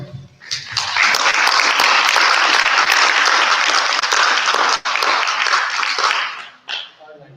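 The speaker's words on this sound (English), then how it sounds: "a big round of applause for you guys" Loud applause from a conference audience, sustained clapping that swells quickly, holds for several seconds, then tapers off.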